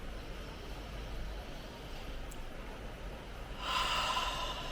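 Quiet, close breathing during a relaxation exercise, soft inhales followed by a stronger, airier exhale near the end.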